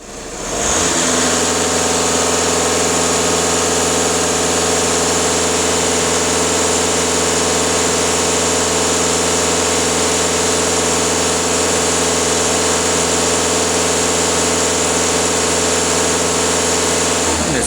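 A VW Touran engine idling with a stuck EGR valve and thermostat, a loud, steady, close hum with a constant low drone and high whine that runs unbroken throughout.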